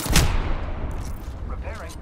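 Apex Legends gunfire, with a loud close burst of shots at the start followed by a fading rattle and mechanical clicks, while a voice is heard near the end.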